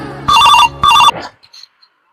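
Two long electronic telephone rings sound on an outgoing call, each about a quarter-second burst of trilling tone with a short gap between, loud and close, followed by faint clicks.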